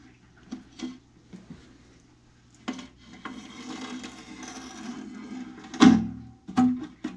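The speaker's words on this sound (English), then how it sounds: "I'm being careful not to cut into the silicone that is sealing the bottom of the tank." Razor blade scraping and trimming silicone off the glass bottom of a TopFin aquarium, close, soft intermittent rasping strokes with small clicks and a sharper scrape near the end, no talking.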